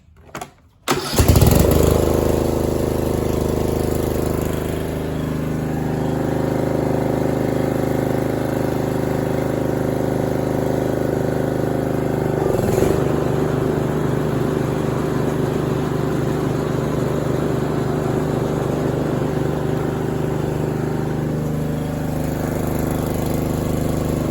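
Rear-engine Murray riding lawn mower starts with a sharp burst, then runs steadily up close with its cutting deck engaged, a loud continuous engine drone that shifts in tone about halfway through and holds to the end.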